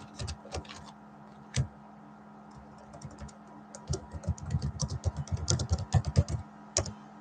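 Fast clicking of keystrokes on a computer keyboard, sparse at first and then a dense, irregular burst of typing, close and moderately loud with no voices.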